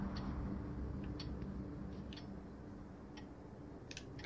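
Alarm clock ticking in The Nightfall game, faint regular ticks over a low background hum, close and steady with no voices.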